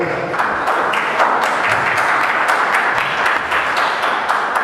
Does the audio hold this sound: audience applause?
yes